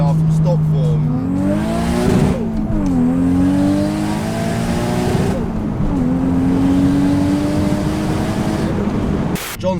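A big single-turbo 1JZ Toyota Mark 2 JZX100 driven flat out, its engine roaring loud and close as the revs climb, drop between gear shifts and climb again, with a sharp break near the end.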